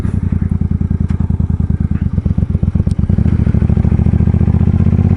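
An Indian Springfield motorcycle engine runs close by, its pulsing low rumble speeding up into a steady drone partway through.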